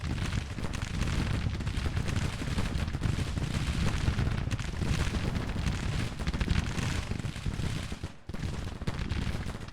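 Musket and artillery fire in the Civil War strategy game Grand Tactician: a dense, continuous roar of crackling volleys and booming cannon, loud and sustained, briefly dipping before resuming.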